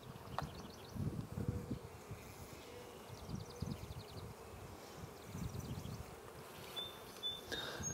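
Honey bees buzz softly around an open hive while it is being split and frames are pulled, with a faint, continuous hum and low rustling throughout.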